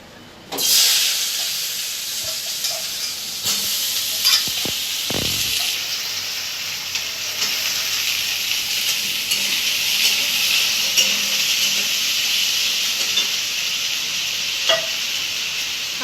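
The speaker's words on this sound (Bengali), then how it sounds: "এদিকে ডিমটা ভেজে দিই" An egg frying in a pan, a loud bright hiss that bursts in as it hits the hot oil and continues steadily for the whole stretch, close up with occasional faint clinks and no talk.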